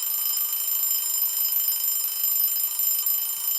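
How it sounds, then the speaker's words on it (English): An alarm tone played aloud in a classroom: a steady, sustained electronic ring with bright high partials, continuous and unbroken for the whole stretch, heard alone with no talking. "How are you able to listen the alarm sound?"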